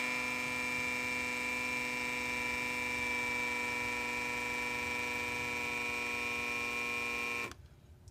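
The hydraulic pump of a Toyota MR2 Spyder's SMT gearbox runs as a steady, faint tonal whine and buzz for about seven seconds, then cuts off abruptly, leaving quiet background.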